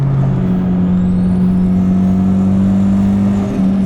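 Turbocharged engine-swapped Mazda RX-8 at high revs, a loud steady engine drone with a rising turbo whine held close throughout, pitch shifting slightly near the end.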